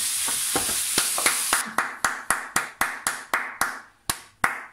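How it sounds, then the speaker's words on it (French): Neighbours applaud the medical staff at 8 pm during lockdown: a sizzling frying sound fades after the first second or two, then a steady run of sharp, evenly spaced single claps rings out with a slight echo. "on applaudit les 20 h, les amis, on applaudit le corps médical"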